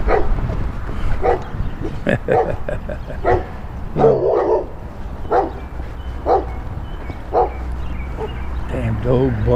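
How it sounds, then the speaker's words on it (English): A dog barks repeatedly outdoors, loud irregular barks spaced a second or so apart, interleaved with someone talking close by over low background noise. "Damn dog bark."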